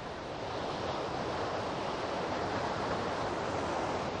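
Waterfalls at Geiranger, Norway, give a steady, dense roar of rushing water that fills the whole stretch without a break, with no voices.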